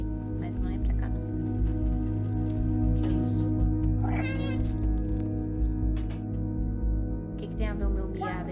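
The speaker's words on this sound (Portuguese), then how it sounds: "Tem a ver o meu miado aqui, gente." A cartoonish cat meows a few times in the video game Stray on PS5 over steady game music, with a person talking intermittently.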